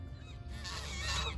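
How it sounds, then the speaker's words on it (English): Geese honk and squabble with Canada geese near Niagara Falls, a burst of harsh, overlapping honks swelling after a quiet start and holding loud to the end. "here we have mother gooses arguing with Canada geese"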